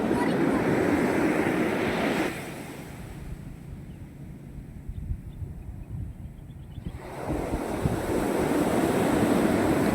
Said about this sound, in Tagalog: Malaki pa rin yung alon.